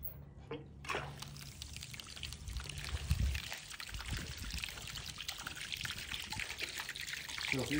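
Water pours and trickles steadily from a ram pump in a creek flow demonstration, a continuous splashing wash heard close with a few low knocks early on.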